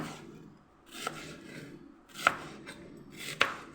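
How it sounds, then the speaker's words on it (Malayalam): Onions chopped with a knife on a board, a few separate sharp cuts spaced about a second apart, close and fairly quiet against a hushed room. "നമുക്ക് ഉള്ളി മുറിക്കാം ഇങ്ങനെ"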